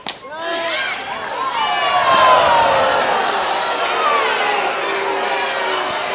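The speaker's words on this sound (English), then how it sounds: "Crowd didn't like it." Large stadium crowd at an NCAA softball super regional game between UCLA and South Carolina roars in disapproval of an umpire's strike call, a loud sustained wash of voices with whistles and shouts rising and holding throughout.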